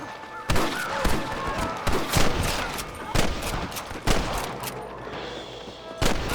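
Gunfire rings out in the Red Dead Redemption video game played on PS5: repeated sharp shots and bursts, loud and close, crack every second or so over a background of battle noise.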